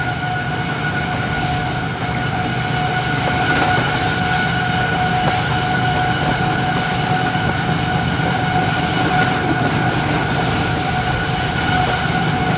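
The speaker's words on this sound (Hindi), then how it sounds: "दोस्तों 12 डाउन हज़ारा एक्सप्रेस गुजरने लगी है।" The Hazara Express, 12 Down, rolls past with a HGMU 30 locomotive in a steady, loud rumble of wheels and rail noise, with no voices over it.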